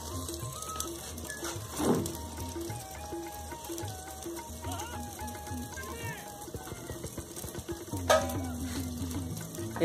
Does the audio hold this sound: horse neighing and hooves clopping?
no